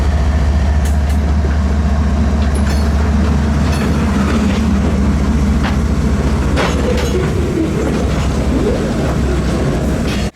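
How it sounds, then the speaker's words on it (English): A train hauled by Union Pacific Centennial locomotive 6936 rumbles loudly and steadily along the former Rock Island mainline nearby, with a low heavy roar, scattered metallic clicks and occasional faint squeals. "the train started rolling back the other way"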